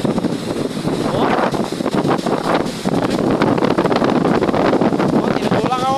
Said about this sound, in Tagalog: Sobrang lakas ng hangin, oh.